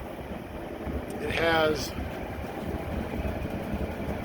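A Vermeer BC1800A wood chipper powered by a 4.5 liter John Deere turbo diesel, idling with a steady low rumble throughout while someone speaks briefly over it.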